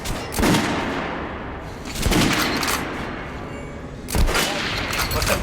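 Gunfire from weapons in the video game Metro Last Light Redux, three loud bursts of rapid shots roughly two seconds apart, each trailing off into a booming echo.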